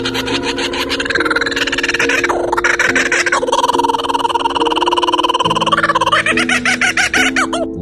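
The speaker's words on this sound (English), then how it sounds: "Kookaburra bird." A kookaburra's loud, rapid laughing call, a continuous cackling chorus of chuckles and rising hoots that swells and falls close by for several seconds.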